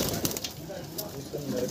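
Madrasi pigeons coo softly in a low, throaty murmur, close by and fairly faint, with some background noise and no clear voices.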